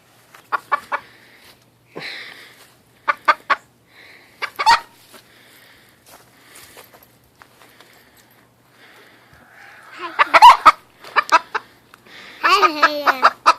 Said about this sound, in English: Let her pet the chicken.